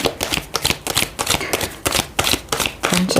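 Tarot cards being shuffled by hand, a run of quick riffling bursts in a steady rhythm, close and crisp, with no talking.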